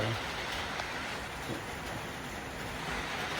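Steady rain falling all day in a rural Thai setting, a constant soft hiss of drops on surfaces and wet ground, continuous and even throughout with no talk.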